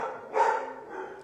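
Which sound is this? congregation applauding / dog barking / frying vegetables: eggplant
dog barking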